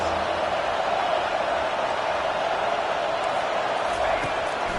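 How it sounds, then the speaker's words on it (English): A packed stadium crowd at a college football game between Oregon and Alabama roars for the defense on third down, a dense, loud, continuous wall of cheering that holds steady throughout. "Decibels rising as the crowd gets behind this defense on third down."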